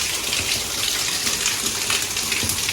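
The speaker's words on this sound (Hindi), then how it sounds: "ये गलत साइड से ही पानी गिर रहा है।" Water pouring down from above into a house, with a pump motor running below, as a loud continuous gushing and splashing rush like heavy rain.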